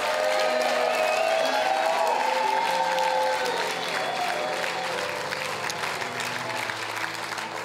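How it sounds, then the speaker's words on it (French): Congregation at a church service applauding and cheering loudly and continuously, a dense crowd roar that stays strong throughout and eases slightly toward the end. "Acclame-le encore plus fort."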